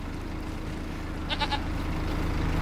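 Goats bleating briefly in Farming Simulator 25, a short burst of two or three quick bleats midway over a steady low game hum.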